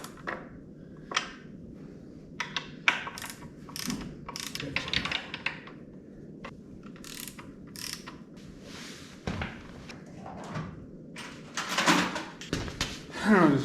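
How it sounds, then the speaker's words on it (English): A torque wrench clicks and ratchets as transmission bolts are tightened evenly during a four-speed install on a 1955 Chevy, giving a run of close, sharp metallic clicks in an irregular rhythm with faint talk underneath. "Do a little torquey action and make sure I get them all pretty even"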